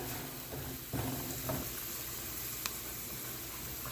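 Cashews fry in hot fat until brown, a steady soft sizzle with a few faint clinks and pops, heard alone at moderate distance.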